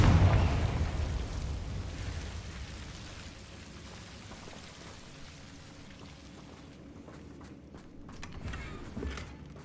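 A Confringo blasting spell from Hogwarts Legacy goes off with a loud burst at the start, then rumbles and crackles away like falling debris. The tail thins into softer scattered pops and patters.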